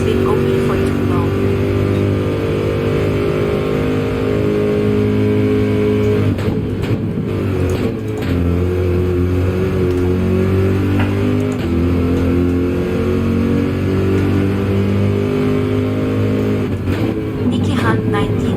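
Car engine in the Gran Turismo 7 racing game holding a steady, loud revving drone with strong harmonic layers, shifting pitch midway, and a voice talking over it at times.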